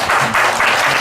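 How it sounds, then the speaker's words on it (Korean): Brief burst of congregational applause in a church for a woman who cooked a meal for a hundred people, a loud, dense clatter of many hands lasting about a second. "우리 이은하 선생님 박수 한번 해주시면"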